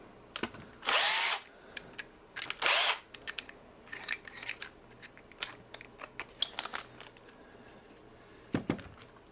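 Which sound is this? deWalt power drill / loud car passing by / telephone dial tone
deWalt power drill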